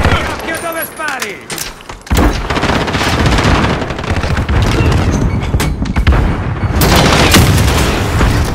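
Heavy gunfire and explosions fill a Call of Duty Modern Warfare firefight, with loud, continuous bursts and booms kicking in after a brief opening of in-game radio chatter.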